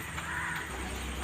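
A crow caws a few times, harsh and moderately near, over a faint background.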